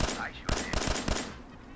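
Rapid bursts of gunfire from a weapon in the video game Fallout 4, several sharp close shots in quick succession with a burst of loud talk, then a fading tail.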